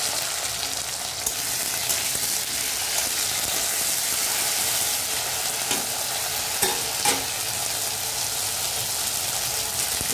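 A stone-ground paste of ginger, cumin and green chilli fries in hot oil, sputtering in a steady sizzle with occasional stirring clatters and scrapes.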